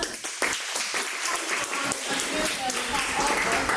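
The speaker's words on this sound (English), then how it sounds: "So big round of applause for all of us." Members at a Toastmasters club meeting give a round of applause, a dense, sustained wash of clapping that carries on throughout at moderate loudness.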